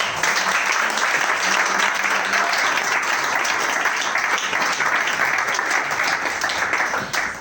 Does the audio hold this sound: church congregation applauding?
yes